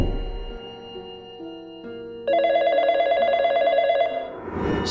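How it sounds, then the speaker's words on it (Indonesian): A telephone rings suddenly in a quiet room with an electronic trill that grows louder partway through, steady and alone with no voices, ending in a brief burst of noise. "tiba-tiba saja telepon berdering"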